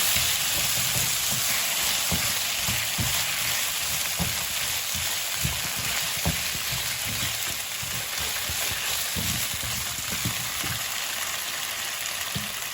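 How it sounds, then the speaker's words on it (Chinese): Potatoes stir-fried in a wok, a steady broad sizzle with repeated scraping and tossing knocks from the spatula throughout, close and continuous with no talking. "把土豆进行一点软化， 充分的翻炒"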